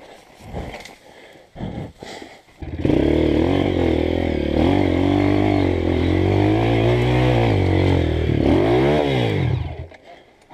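Honda CRF 230 dirt bike straining up a steep wooded trail, engine loud and close in a sustained rising and falling drone for most of the stretch, with a revving swell near the end and brief clatter before it starts.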